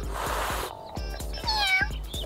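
Kitten meowing several times in quick succession, thin rising cries heard close, with soft rhythmic thumps underneath.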